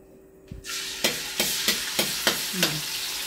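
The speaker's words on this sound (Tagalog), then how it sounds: "Naglagay na po ako ng mantika. Sunod na po natin yung bawang." Garlic drops into hot cooking oil for pinakbet and bursts into a loud, steady sizzle, with a spatula stirring through it in regular scraping strokes about every half second.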